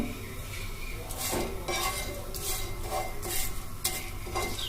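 Dried red chillies and a bay leaf dry-roasting in a pan alongside cinnamon, heard as steady stirring and scraping with light clinks of utensil on metal and a soft sizzle throughout.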